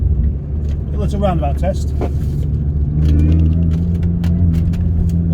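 Mini Cooper S GT engine pulling steadily under acceleration in fourth gear, a loud continuous low drone that rises through the clip, with someone talking over it near the start.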